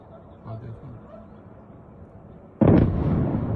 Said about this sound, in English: And now we can hear the explosion of a second Ukrainian drone being shot down over the city.